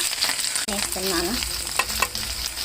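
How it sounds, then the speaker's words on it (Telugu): Cumin seeds and green chillies hit hot oil in a kadai with a close, continuous sizzle and spitting crackle, joined by a few scraping stirs and brief clinks. "ఆయిల్ హీట్ అయింది ఫ్రెండ్స్. చూడండి, జీలకర్ర వేస్తున్నాను. చూడండి, అలానే మిర్చి వేస్తున్నాను"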